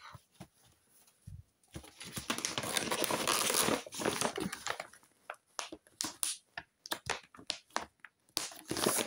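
Plastic or paper packaging for a cross-stitch or diamond painting kit is folded by hand, giving repeated close crinkling and rustling bursts with short pauses between them.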